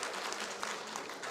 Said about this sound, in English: Give him a round of applause for showing up, you know.